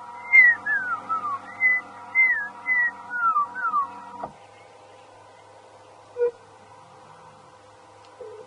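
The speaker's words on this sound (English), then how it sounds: "You can hear the dark-capped chegra, the dark-crowned chegra calling." A dark-capped chegra calling outdoors, a run of slurred, wavering whistled notes repeated several times at moderate distance, then a quieter stretch with one brief faint note and a low steady background hum.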